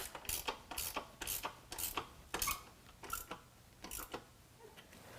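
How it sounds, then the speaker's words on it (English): A ratchet with a 13mm socket tightens running board bracket hardware on a 2021 Ford F-150 SuperCrew, a steady series of about ten close clicking pulls in even rhythm, fairly quiet, with no speech. "push up on those brackets and then tighten down the hardware using a 13mm"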